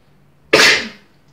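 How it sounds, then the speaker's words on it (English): A single sharp, loud sneeze during an avocado face mask application, a sudden burst that fades within about half a second and is followed by quiet. "I'm gonna sneeze."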